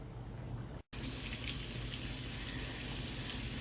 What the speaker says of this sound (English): while on the side the onion is caramelizing